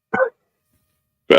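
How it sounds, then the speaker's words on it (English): A dog gives two short, sharp barks about a second apart, close and loud, with silence between them. "Oh, you're a whiny dog."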